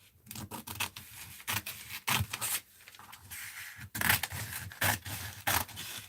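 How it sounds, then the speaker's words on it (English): Scissors snipping through art paper for mixed-media cards, a series of close, crisp irregular cuts with scraping and rustling between them, no talk. "We'll use the Deborah scissors."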